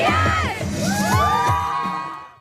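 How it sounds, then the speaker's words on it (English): K-pop fans scream and cheer in a loud crowd, high shrieks and whoops rising and falling together before fading out. "The screaming fans of K-pop."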